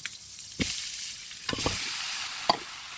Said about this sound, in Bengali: এরপর আমি এই তেলে একে একে লাউগুলো দিয়ে দিব